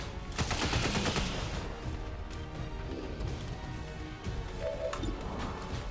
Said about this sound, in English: just pump bullets down range